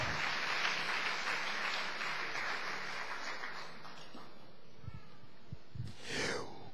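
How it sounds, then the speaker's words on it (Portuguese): A church congregation claps for Jesus during a Portuguese-language sermon. Dense, steady applause fills the first few seconds, then thins and fades, leaving scattered faint sounds near the end. "Uma salva de palmas para o Senhor Jesus."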